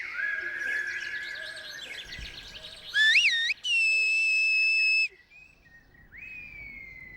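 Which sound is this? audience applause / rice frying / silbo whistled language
silbo whistled language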